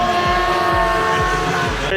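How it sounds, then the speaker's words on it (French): Porsche Cup race car on a track during a historic Grand Prix event, a loud continuous engine roar with repeated quick upshifts or revving cycles as it drives past, close and dominant. "Une petite Porsche Cup qui arrive toute seule."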